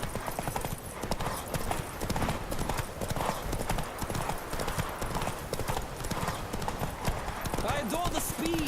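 A video-game horse's hooves pound in a fast, continuous gallop in The Witcher 3, loud and close, with voices talking over the rhythm.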